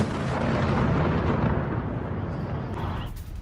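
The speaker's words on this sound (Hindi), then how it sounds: "9 मंजिला इमारत में जोरदार धमाका हुआ।" Missile strike exploding against a nine-storey residential building in Kyiv's Brovary area: a loud, sustained roaring blast rumble that slowly fades, heard alone with no voices.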